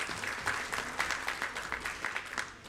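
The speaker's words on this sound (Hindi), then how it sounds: "तालियां होनी चाहिए।" An audience applauds at a formal launch event for an LED installation programme, a steady patter of many hands clapping, fairly faint and evenly sustained.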